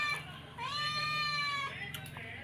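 A cat gives one drawn-out meow, fairly close and clear, over a faint background murmur.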